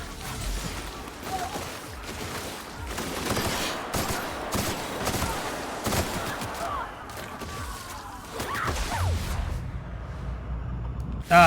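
Troops from Stellar Bay firing guns in a firefight in the Outer Worlds video game, bursts of shots and clattering impacts crackling on and off over about ten seconds, with faint voices in the mix.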